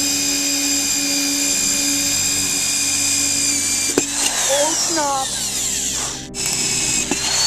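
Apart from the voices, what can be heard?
power drill drilling into shoes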